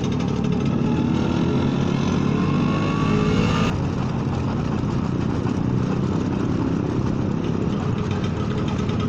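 A Vespa scooter ridden along a usually bumpy road, its engine droning steadily and loudly with a rising pitch as it accelerates, then a smoother, broadband road and wind roar for the rest of the ride.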